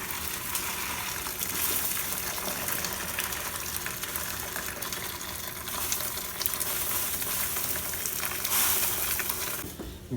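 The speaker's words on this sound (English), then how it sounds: "So we've got our stock. We're gonna strain it off." Chicken stock with rosemary stems strained off in a kitchen, a steady soft gushing pour of liquid running continuously at low level, with no talking.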